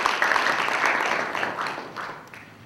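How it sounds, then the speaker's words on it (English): A round of applause from an audience at a Model United Nations delegate orientation, a dense patter of many hands that gradually fades out. "Please welcome her again with a round of applause."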